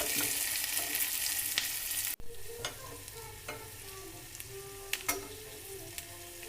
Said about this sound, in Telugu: ఇంగు వేస్తున్నాను. సమంగా వేపుకోవాలి.